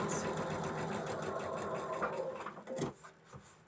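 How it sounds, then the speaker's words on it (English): A sewing machine stitches pieced quilt blocks, a close, steady whirring hum of rapid needle strokes that runs continuously, then slows and stutters to a stop near the end. "So let's just stitch right through and see."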